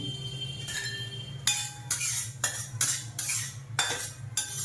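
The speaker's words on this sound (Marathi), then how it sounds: "पिस्त्याला पण असं चांगलं खरपूस भाजून तळून घ्यायचं जरा" Pistachios fry in ghee in a pan while a metal spoon stirs them, making repeated close scraping and clinking bursts over a faint sizzle.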